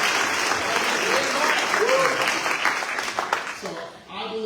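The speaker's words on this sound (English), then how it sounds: "Let's give Mark a round of applause again." Audience applause at an awards ceremony in Jackson, dense clapping that holds steady then thins and fades out near the end, with a voice speaking over it.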